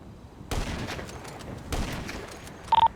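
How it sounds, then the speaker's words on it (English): Two bursts of video game gunfire crack out, each a short rattling volley at moderate loudness, followed by a few quick electronic beeps at the end. "firing now"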